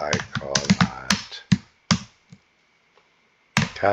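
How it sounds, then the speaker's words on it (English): Clacky, uneven bursts of typing on a computer keyboard, close and fairly loud, with quick clusters of keystrokes, a long quiet gap, then another flurry of taps. "I'm sorry about the noise of my keyboard."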